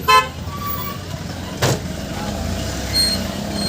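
An auto rickshaw in Rajapur rumbles low and steady nearby, with a short horn toot at the start and a brief burst of noise midway, under faint talk.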